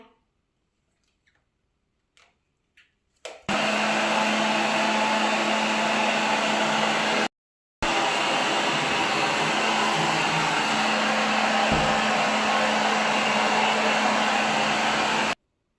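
A hair dryer runs loud and steady close by, drying the synthetic hair of a hobby horse after washing; a few faint handling clicks come first, then a sustained blowing whir that cuts out briefly and starts again.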